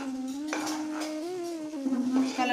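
A spoon stirs amla morabba with ginger paste in a cooking pot, scraping and clinking against the metal with a faint ringing tone, close by.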